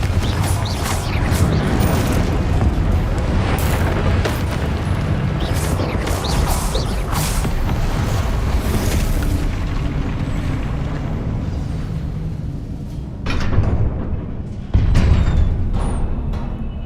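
In Hogwarts Legacy, a Confringo fire spell goes off in a loud, dense explosive roar that rumbles on steadily before a few sharper impacts near the end.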